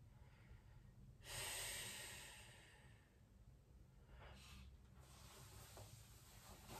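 Deep, slow breathing from a person holding a stretching forward fold during a full-body workout, with a long audible inhale or exhale followed by a softer second breath, close and fairly quiet, no talking.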